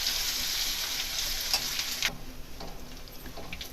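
Garlic, chili and ginger paste fries in hot oil for a bottle gourd curry, giving a steady close sizzle with a few light stirring clicks. The sizzle eases slightly partway through.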